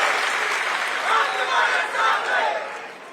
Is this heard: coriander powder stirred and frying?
no